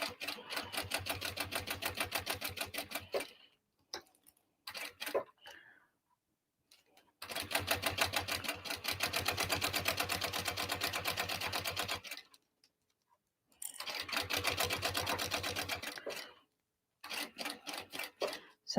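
A sewing machine stitching a tote bag runs in rapid, even bursts, loud and close, stopping and starting several times with short pauses between runs.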